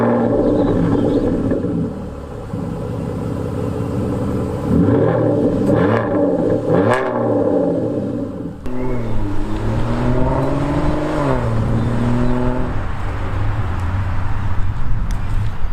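An Aston Martin Vanquish engine drones loudly and steadily while driving, with rising and falling revs as it shifts through gears from inside the cabin.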